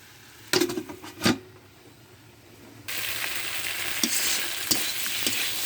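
Potato and raw banana stir-fried in a pan: a quiet stretch with two sharp clatters of stirring, then a steady loud sizzle with occasional scrape ticks.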